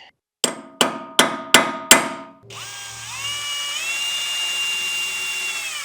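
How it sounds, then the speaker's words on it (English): Five sharp metallic impacts in a steady rhythm, followed by a continuous whirring drill boring a hole to tap for a bigger bolt on a TYM 4820 tractor, close and fairly loud. "now we get to drill and tap a bolt"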